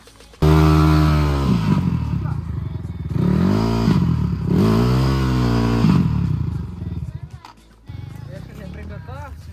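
An off-road motorcycle revs hard through mud on a very difficult swampy track, its engine loud and close with repeated throttle bursts rising and falling, while people talk over it.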